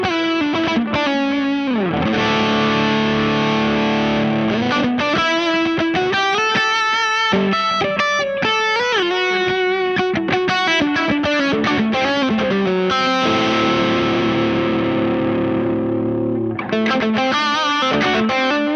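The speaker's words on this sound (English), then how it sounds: "Good sounding overdrive." Electric guitar driven hard through a Soundbox Workshop 1993 overdrive pedal at high gain, with loud, saturated chords and riffs ringing continuously and no speech.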